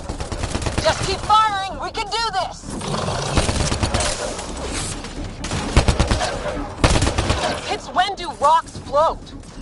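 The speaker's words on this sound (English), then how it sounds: "Just keep firing!" Gunfire in a Mass Effect firefight, with rapid bursts and sustained automatic shots close and loud, under urgent shouting from several voices and alien shrieks in between.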